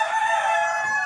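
A village chicken rooster on a rural farm crows, a single sustained, harmonically rich call, close and clear, with no voices over it.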